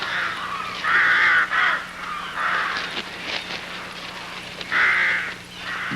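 Rooks caw at a rookery, with several close bursts of harsh repeated calls separated by quieter stretches of distant cawing.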